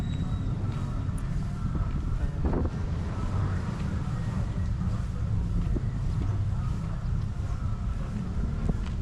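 Steady wind buffets the microphone with a constant low roar, unbroken throughout, with faint outdoor sounds beneath, at a town plaza in Carmen, Bohol, Philippines.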